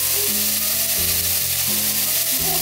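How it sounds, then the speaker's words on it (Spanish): Meat and bacon sizzle and fry in a pot in a small mountain cabin kitchen, a constant loud crackle with no talking. "ya doré acá la carne y la panceta"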